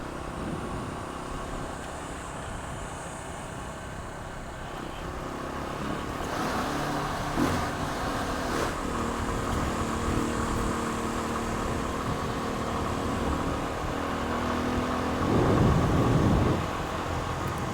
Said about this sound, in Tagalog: Ayan yung mga sasakyan, no, na dumadaan.